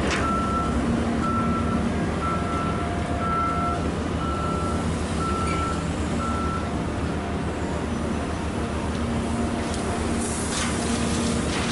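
Dump trucks loaded with lean clay run three at a time at a fill job, with a repeated reversing beep pulsing over a continuous diesel engine drone and rumble of heavy machinery, no talking.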